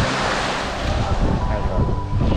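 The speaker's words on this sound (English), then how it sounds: "The water is super strong. The waves are super strong." Strong ocean waves at Fish Point on the Tanzanian coast, a loud continuous wash of surf mixed with heavy wind buffeting the microphone, rumbling steadily throughout.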